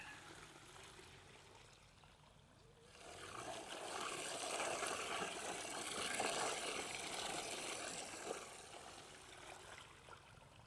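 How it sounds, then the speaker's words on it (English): Muddy water is poured out of a container while prospecting for gold between bricks. A faint background gives way after a few seconds to a sustained, moderately loud rush of pouring and splashing water that tails off near the end. "Okay, let's get rid of some muddy water."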